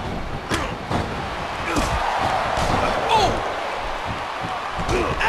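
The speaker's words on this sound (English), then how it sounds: "Listen to his body crash into the ground." A wrestler's body slams hard onto the ground during a tag-team wrestling match, a sharp thud among repeated impacts, with a commentator talking over crowd noise.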